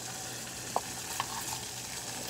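Cubed tofu sizzles as it fries in a pan, a steady quiet crackle with a couple of small sharp pops, no talking.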